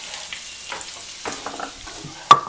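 Food sizzling in a small pan, with soft scattered crackles and stirring scrapes and one sharp clink near the end, fairly quiet and without talk.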